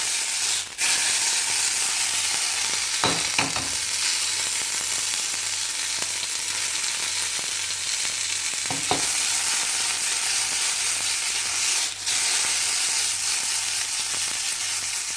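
Already-cooked beans sizzle steadily as they reheat in a pan, a constant close hiss broken by a few brief clatters of stirring.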